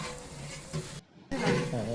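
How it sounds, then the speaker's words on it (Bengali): Ground garlic and ginger spice paste sizzles and is stirred in a large pot for tehari, a loud frying hiss with scraping, cut by a short pause. "এখন মশলাটা সুন্দর করে কষানো হবে।"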